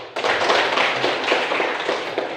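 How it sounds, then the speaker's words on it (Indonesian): Applause from a classroom of students for a classmate's answer, a dense steady patter of many hands clapping together for about two seconds, fairly close and without talk. "tepuk tangan untuk jawaban teman kamu semuanya"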